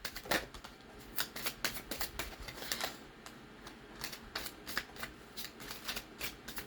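Oracle cards being shuffled close by, a quiet run of quick papery riffles and snaps in irregular bursts with no talking.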